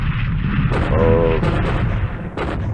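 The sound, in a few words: bombing explosions in the video game War in the Pacific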